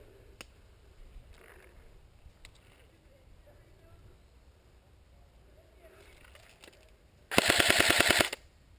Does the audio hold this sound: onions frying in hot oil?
no